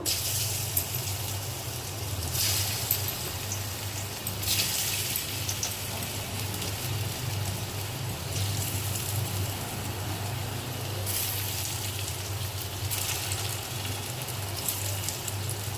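Dhoka, fried Bengali lentil cakes, sizzle in hot oil, a steady close crackling hiss with brief louder bursts of spattering every few seconds.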